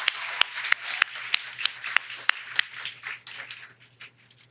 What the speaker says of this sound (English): Let's get a big round of applause going for all of them